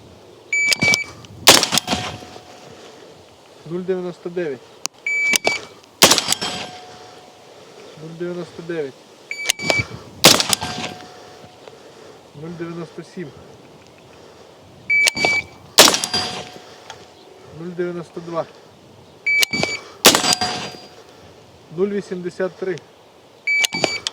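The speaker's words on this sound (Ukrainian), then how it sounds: "Стріляти буду по гонгу, тому характерний звук ви будете чути." Sharp gunshots ring out in evenly spaced bursts, each followed by a bright metallic clang from a steel gong target about 20 metres away, with someone speaking between the shots.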